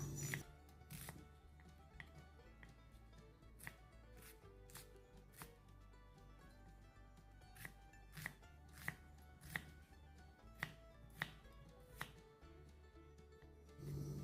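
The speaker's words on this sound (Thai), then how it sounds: "พริกจินดาแดงเอามาซอยต่อเลยค่ะ" A knife slices onion and red prik jinda chili on a cutting board, producing quiet, crisp chops in irregular bursts, some quick runs and some single sharp strikes, with short pauses between.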